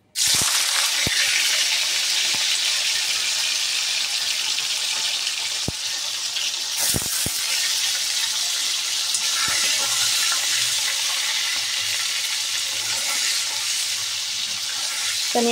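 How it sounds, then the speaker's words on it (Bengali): Paneer cubes frying in hot oil in a pan, a steady loud hiss and sizzle that runs without a break, with a few sharp pops and clicks. "তো তেল গরম হয়ে গেছে, এবার আমি এর মধ্যে পনিরগুলি দিয়ে ভেজে নেব।"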